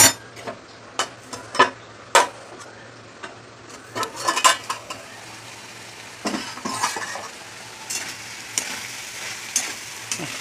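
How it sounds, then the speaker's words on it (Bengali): Raw fish pieces being mixed by hand with salt and turmeric in a home kitchen, giving soft wet squelches and scattered sharp clicks of a bowl or utensil, close and intermittent with no talking. "লবণ আর হলুদ দিয়ে দিয়েছি, মাখিয়ে নেবো।"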